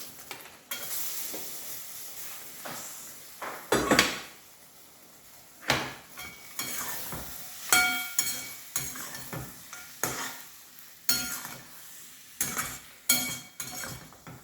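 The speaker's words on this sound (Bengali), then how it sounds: "বড়িটা আমি ভেজে নিয়েছি ঘি দিয়ে, এবার দিয়ে দেবো।" Ghee-fried bori lentil dumplings go into a pan of spinach and vegetable korma, with repeated close scraping stirs and clinks over a steady low sizzle.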